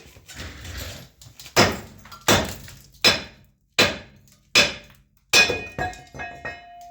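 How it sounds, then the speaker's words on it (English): Hammer blows strike a Dana 60 axle spindle on a rusty salt-belt rig to knock it loose: about six sharp metallic wallops spaced roughly a second apart, close and loud, with ringing clinks after the last strikes. "We're going to give a little wallop down here to break it free."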